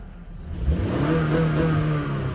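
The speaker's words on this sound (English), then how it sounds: "when you're idling, you can't rev it past a certain amount" A 2015 Honda Fit engine at 90,000 miles revs up while idling and holds at a steady high pitch, droning loudly and close with a slight rise and fall, as if bouncing off the limiter.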